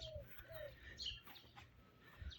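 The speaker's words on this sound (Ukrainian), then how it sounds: "Птиці співають зранку." Birds chirp and call outdoors in the early spring morning, with a few short whistled notes and brief tweets over faint background noise, moderately distant.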